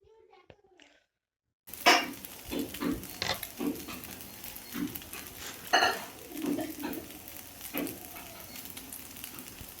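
Food frying in a pan in a home kitchen, sizzling with irregular scraping and stirring clatter, starting after a brief silence and carrying on steadily up close.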